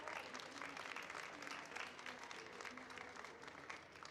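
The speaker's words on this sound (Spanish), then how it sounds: "Un aplauso, por favor." An audience at a public book-festival talk applauds steadily for several seconds, a dense, even wash of clapping with no break.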